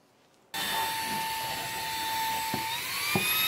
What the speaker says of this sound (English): We gotta find some stuff to vacuum.